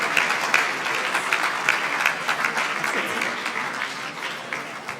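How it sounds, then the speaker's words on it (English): An audience applauds a speaker at a dialogue-series event, steady dense clapping filling the room from start to finish at an even, sustained level. "with a round of applause once again"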